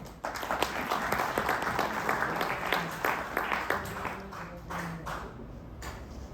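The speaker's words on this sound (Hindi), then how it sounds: "इनके लिए ताली बजा दें एक बार" A crowd at an event in Agra applauds a wrestler with steady, brisk clapping that holds for several seconds and then tapers slightly toward the end.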